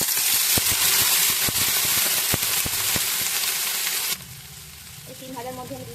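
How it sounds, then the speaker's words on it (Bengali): Flat beans frying in hot mustard oil, a loud dense sizzle with crackling pops that drops abruptly to a softer sizzle near the end, with a faint voice underneath. "এবার আমি শিমগুলো ভেজে নেব, হালকা করে ভেজে নেব।"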